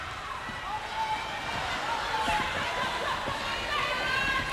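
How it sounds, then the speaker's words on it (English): Small but noisy crowd at a 2009 Silver Ferns versus Jamaica netball test, a constant murmur of cheering and babble with court footsteps and squeaks underneath, heard at a moderate distance with commentary talk over it. "Might be a small crowd, but it's a noisy one."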